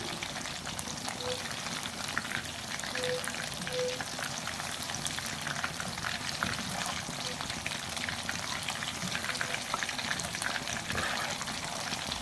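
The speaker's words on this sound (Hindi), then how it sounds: "सेम उसी तरह फ्राई करेंगे, 5 मिनट के लिए स्टे करेंगे, फिर टर्न करेंगे।" Chicken pieces frying in hot oil in a pan give a steady, dense sizzle and crackle that stays even and close throughout, with no talking.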